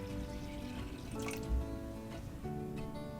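Tap water runs steadily into a large cooking pot holding soybeans, a soft close trickle and splash with small drips, no talking.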